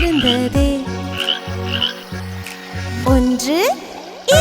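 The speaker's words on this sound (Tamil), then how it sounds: "2 பச்சை தவளை இருந்ததே." Two cartoon green frogs croak through a children's rhyme. A short croak repeats at a steady beat, with splashy water sounds and musical voices around it.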